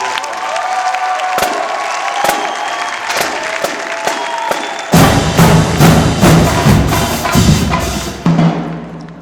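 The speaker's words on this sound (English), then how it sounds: "I would like to ask right now that everybody give a huge hand clap to these students" Loud audience applause and cheering erupt at a PASIC 2016 percussion clinic, with dense clapping that swells into a fuller roar of hands and shouts before tapering off.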